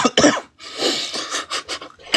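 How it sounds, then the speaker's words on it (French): Several short, raspy coughs close to the microphone, coming in quick irregular bursts with brief pauses between them. "Excusez-moi pour la toux."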